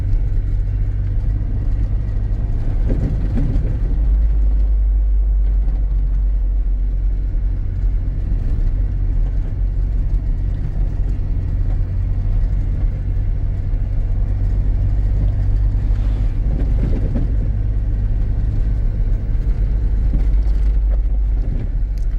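A 2007 Jeep Wrangler X driving along, with a steady low engine drone, road rumble and wind buffeting heard from inside the cab, swelling briefly a couple of times.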